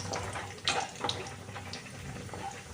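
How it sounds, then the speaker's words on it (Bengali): Washed raisins spatter in hot ghee in a close, continuous watery sizzle with a few sharper pops and crackles scattered through. "কিশমিশগুলো একটু ধুয়ে নিয়েছিলাম ওই জন্য একটু জল ছিটকালো"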